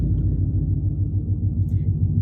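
A brother's car rumbles as he drives off, a low pulsing engine throb with a steady rhythmic beat, close and moderately loud, with no speech.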